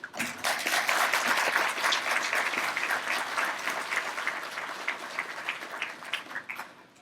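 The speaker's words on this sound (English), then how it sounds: "Can we get another round of applause for this beautiful and very powerful official county executive Angela Ossoffers?" A crowd at an awards event applauds a county executive with full, sustained clapping that starts strongly and slowly eases off into scattered individual claps.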